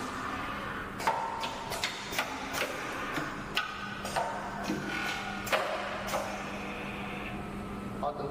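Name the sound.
automatic strap webbing cut and sewing machine running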